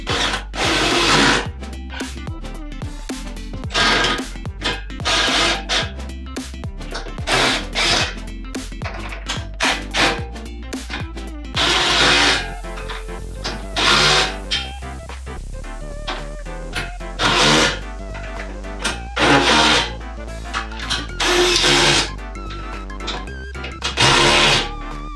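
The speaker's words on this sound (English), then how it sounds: "let's go ahead and throw this thing on and bolt it all together" Hardware for a 1 1/4-inch sport trailer hitch is bolted onto a 10th-generation Honda Civic hatchback: loud, close bursts of rasping ratchet clicks repeat in short runs, separated by brief pauses.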